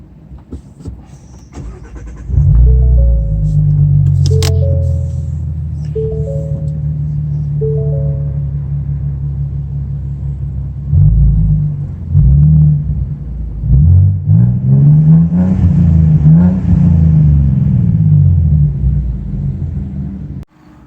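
A 2017 Ford Mustang with a Flowmaster American Thunder exhaust and the resonator still fitted starts up into a loud, deep idle rumble. Later come several throaty revs that rise and fall, recorded up close.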